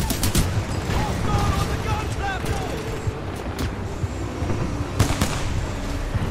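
P-2020 pistol gunfire in the Titanfall 2 video game: loud, rapid shots and bursts over a dense background of battle noise, with a few sharp cracks standing out near the end.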